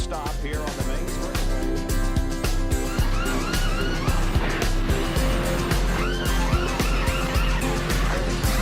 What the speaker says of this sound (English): Meanwhile, the cars are rolling to a stop here on the main street.